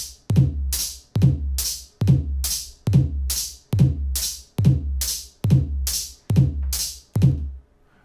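A programmed drum loop in LMMS music software pairs a punchy kick with a hissing open hi-hat, repeating eight times in an even, steady rhythm at a loud, upfront level with no speech.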